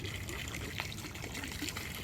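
Water splashing and trickling as it is poured into an outdoor park pond during a ruqyah ritual, a steady close pour lasting a couple of seconds over faint background noise.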